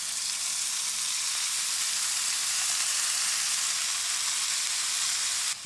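Teriyaki chicken and vegetables stir-frying in a hot pan with Worcestershire, a loud, steady hiss of sizzling oil that holds evenly before cutting off abruptly.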